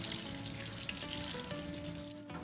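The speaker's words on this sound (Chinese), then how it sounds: "这时候用这个温热水给它冲洗一下" Warm tap water runs steadily over blanched beef shank in a kitchen sink, a continuous close hiss and splash that never breaks and has no talking over it.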